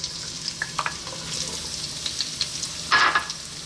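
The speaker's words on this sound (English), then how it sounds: "We're going to start off by dropping in our onions" Onions drop into hot olive oil in a pan, giving a soft, steady sizzle with a few light clicks and a brief louder burst of frying near the end.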